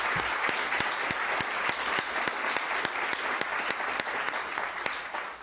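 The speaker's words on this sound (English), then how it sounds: "let's give Valier a massive round of applause for this prestigious award" An audience at an academic lecture award gives a sustained round of applause, dense and even clapping with a few sharp individual claps, heard alone without talk.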